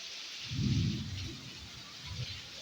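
Steady heavy rain hisses throughout while a low rumble of thunder swells early on and fades, with a softer rumble near the end.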